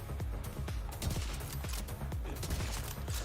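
Shots from a .308 rifle in The Division 2, a dense barrage of loud, close reports firing in quick succession without pause, layered with other gunfire in the fight.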